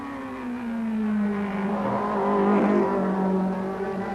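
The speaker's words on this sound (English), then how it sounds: "engine not running cleanly" A Group A race car engine at the 1990 Macau Guia race drones loudly and unevenly, misfiring, its pitch wavering and sputtering rather than running smoothly, with no voices.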